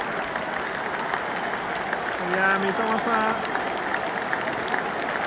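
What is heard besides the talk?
stadium crowd applauding players at Brighton vs Ipswich match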